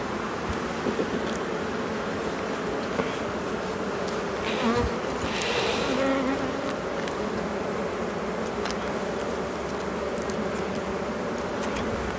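Honey bees buzzing around an open beehive during a spring hive inspection, a dense, steady drone that holds at an even level from start to finish with no voices.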